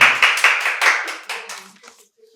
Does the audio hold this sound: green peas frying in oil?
no